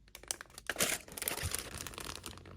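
Plastic bags holding HG Legend Gundam kit runners crinkle and rustle close by, with continuous crisp crumpling and brief tearing-like bursts.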